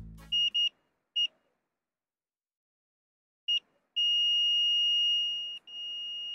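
A multimeter's continuity buzzer gives a series of short electronic beeps, a few quick chirps spaced apart, then one long continuous buzzing tone that holds to the end.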